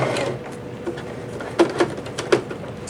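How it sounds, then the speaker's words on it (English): A Singer Heavy Duty 5554 sewing machine stitches up to the edge of the fabric with a close, soft mechanical whir, then a few distinct thumping knocks and clicks as it reaches the end, with no talking. "let me sew to the edge"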